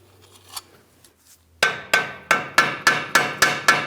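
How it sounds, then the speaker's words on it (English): A hammer strikes the front strut of a Ford Transit 250 van in a steady series of eight sharp, ringing taps after a few faint clicks, close and loud. "you will have to tap on it with a hammer to help it down"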